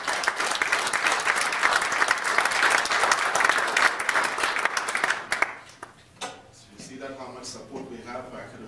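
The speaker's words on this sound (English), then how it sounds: "I'd like to give a round of applause" Sustained applause from an audience at a construction-industry research event fills the room, then breaks off abruptly and gives way to voices talking.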